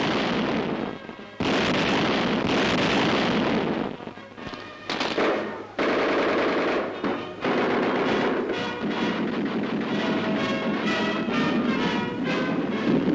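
German siege guns and gunfire in Stalingrad street fighting: dense, continuous loud bursts of shooting and blasts filling the whole stretch, with brief dips before resuming.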